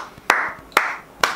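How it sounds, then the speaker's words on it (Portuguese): Three slow, evenly spaced hand claps from one person indoors, each a crisp, fairly loud smack with a short ring, alone without talk. "Batendo palmas, porque vocês mandaram muito bem."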